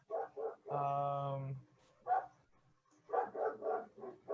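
A dog barks and whimpers in a room, a long drawn-out yelp followed by several shorter barks and yips, fairly close and loud, with no talk over it.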